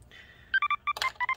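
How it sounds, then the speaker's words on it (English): A mobile phone giving off a quick series of sharp electronic tone beeps, close and loud against a quiet background, in a home workshop during a laptop fan repair. "Oh no, my phone's gonna keep beeping."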